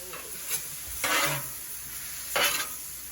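Chicken fajitas sizzle softly on a griddle as chipotle sauce goes on, with two louder bursts of hissing and scraping a little over a second apart, close by and with no talk.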